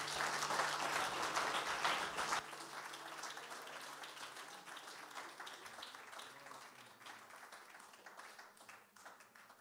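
Church congregation applauding and cheering during a French worship service, a dense burst of many hands clapping that drops after a couple of seconds into steadier, lighter applause fading slowly.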